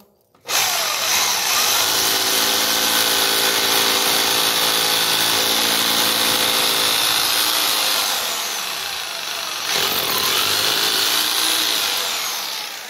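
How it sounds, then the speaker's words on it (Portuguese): Power drill fitted with a 12 mm bit boring a hole for a wall plug while a toilet is being installed, loud and close, running steadily, easing off briefly, then surging again, with no talk. "Eu vou começar agora com a broca 12, porque a bucha é de broca 12."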